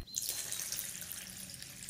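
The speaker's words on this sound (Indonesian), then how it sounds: "Tuangkan 1 liter air" Water pours steadily and continuously from a container, about a litre, into a mixture of lime juice and melon syrup for an iced lime-melon drink, a close, even splashing rush with no talking.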